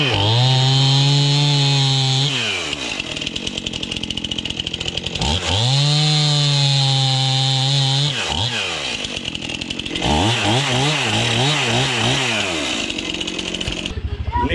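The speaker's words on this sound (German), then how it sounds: "Kettensäge läuft im Hintergrund, so sieht's aus." Chainsaw running in a garden during terrace renovation, loud and close, revving in repeated bursts with idling drops between them.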